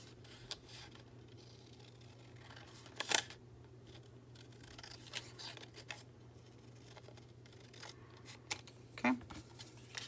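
Scissors snipping cardstock in a quiet room, a couple of distinct close crisp cuts separated by a few seconds, with soft handling noises over a low steady hum.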